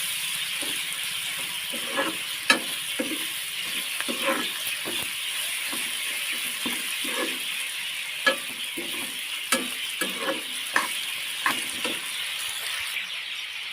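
Bitter gourd sabzi stir-fried in a pan, a steady sizzle beneath repeated scrapes and taps of the spatula against the pan, continuing evenly throughout with no voices.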